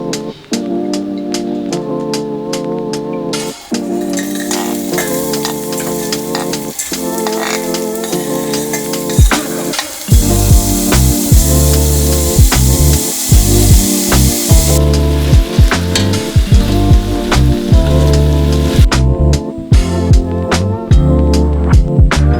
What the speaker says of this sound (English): throw my chopped up onion into my big soup pot here, along with just some oil and my minced garlic